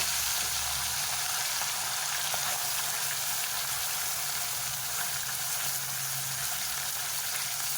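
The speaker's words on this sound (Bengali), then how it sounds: "অনেকটা তো মাছ আমি অল্প অল্প করে ভাজছি" Fish frying in oil in a pan, a steady, dense hiss and crackle of sizzling that continues unbroken and moderately loud with no voices.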